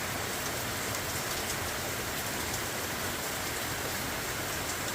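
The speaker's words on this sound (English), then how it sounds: "it is now pouring rain out" Heavy rain pours steadily from a thunderstorm onto a trail shelter on the Appalachian Trail, a dense, continuous roar of drops drumming on the surface, loud and unbroken throughout with no talk.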